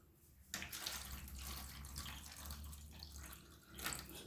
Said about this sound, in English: Might as well start putting some water in these.